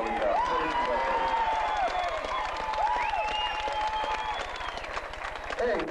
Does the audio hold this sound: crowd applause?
yes